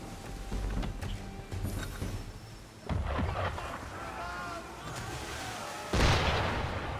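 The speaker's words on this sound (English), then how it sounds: "Why is he shooting at us?" Cannon fire from an enemy ship in Assassin's Creed III, several deep booming blasts with rumbling tails, one heavy shot near the end, amid sea and ambient game noise.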